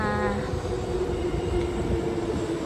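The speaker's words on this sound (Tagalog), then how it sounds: "Ayan na yung train. Paparating na yung train ko guys." A Singapore MRT East West Line train pulls into the station with a steady rumble and rising mechanical whine, close and fairly loud, with station ambience around it.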